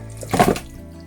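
A brief, close splash of running water while raw chicken is rinsed in a home kitchen for fried chicken, lasting only a moment.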